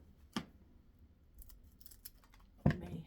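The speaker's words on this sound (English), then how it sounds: "Pair of scissors" Scissors snipping wreath material, two sharp, close cuts about two seconds apart with faint rustling between them, no talking.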